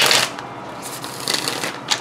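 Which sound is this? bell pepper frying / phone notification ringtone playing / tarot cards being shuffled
tarot cards being shuffled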